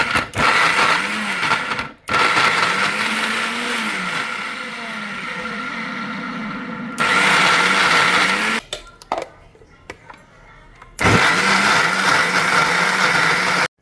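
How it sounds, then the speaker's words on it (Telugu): A mixer grinder blending carrot and beetroot pieces whirs loudly in bursts with a high motor whine, stopping and restarting several times with short pauses between runs. "మిగతా వెజిటేబుల్స్ అన్నీ వేసేసి మిక్సీ చేసేస్తున్నాను"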